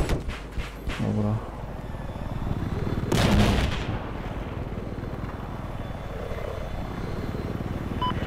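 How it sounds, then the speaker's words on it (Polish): An enemy attack helicopter roars in Battlefield 4 gameplay amid loud bursts of gunfire and explosions, its rotor and engine noise sustained throughout the battle. "Widzę śmigłowiec przeciwnika!"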